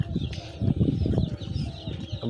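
Poultry on a mixed farm, including an Asil hen kept among broiler chickens, give soft clucks and murmurs over a busy, steady background of shuffling and faint calls.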